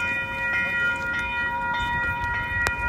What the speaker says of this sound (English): The train is extra loud right now.